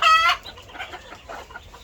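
Chickens cluck and call on a farm where hens lay eggs, a loud burst of squawking at the start followed by quieter, scattered clucks nearby.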